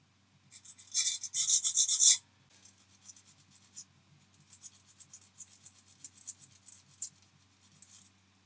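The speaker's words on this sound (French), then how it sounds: "je maintiens bien ma pièce, ce qui va me permettre de venir poncer" A small photo-etched metal part for a P-40E scale model, gripped in Tamiya pliers, is sanded in quick, light, close strokes: one dense scratchy burst, a pause, then a longer run of short rubbing passes.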